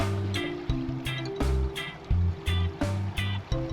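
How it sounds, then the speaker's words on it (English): Waves slap rhythmically against a motorboat heading toward the Bahamas, as a series of sharp splashes roughly every half second over a low, steady motor hum, close to the hull. "the steady hum of our motor and the rhythmic splash of waves against the boat"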